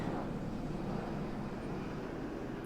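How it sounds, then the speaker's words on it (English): A loud helicopter passes overhead, its steady, heavy rumble filling the whole stretch without a break. "Helicopter. Wow, that was like really loud"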